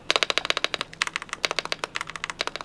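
Fast, even typing on a KZZI K75 Pro 75% mechanical keyboard with red switches, a dense run of crisp clacking keystrokes close to the microphone, with a brief pause midway and no talking.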